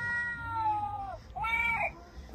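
Two drawn-out meows from a toy cat, one after another with a short gap, clear and close against a quiet background.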